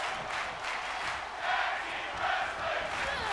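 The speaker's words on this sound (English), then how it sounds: "And the crowd here tonight appreciating the tag team wrestling that is happening before their very eyes" A crowd roars and cheers at a wrestling arena in the video game WWE 2K22 during a tag team match, a dense, rising and falling wash of noise with no voices above it.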